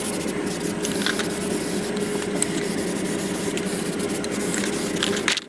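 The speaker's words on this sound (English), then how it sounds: "Just putting on some Rust-Oleum" Rust-Oleum red primer being sprayed from an aerosol can onto a homemade post hole digger frame, a loud, close, continuous hiss that holds steady for several seconds before cutting off.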